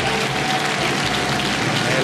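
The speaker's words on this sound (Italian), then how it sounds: "applauso inutile" A studio audience on an Italian television talk show claps in a thick, continuous burst, loud and close, with a speaking voice mixed in.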